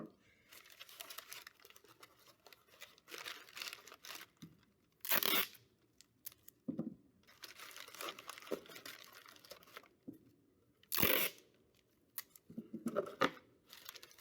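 Sheets of paper being crumpled and torn to stuff and round out a cardboard-and-papier-mâché dragon head, with close crinkling and crunching bursts and a few sharp tearing rips coming in intermittent clusters.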